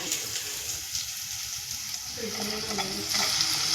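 Ginger garlic paste and curry leaves fry in hot oil, giving a steady sizzling hiss with stirring scrapes that grows louder toward the end.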